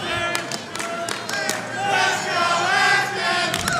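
A crowd at a cornhole championship night roars in a continuous, loud swell of cheering and shouting that builds toward the middle, with a few sharp claps on top.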